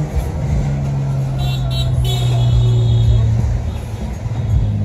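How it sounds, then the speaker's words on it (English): Black Harley-Davidson motorcycles ride past on a crowded street where Mexico fans are celebrating. A steady low engine drone and road noise sit under crowd babble and nearby talk. "Black Harleys."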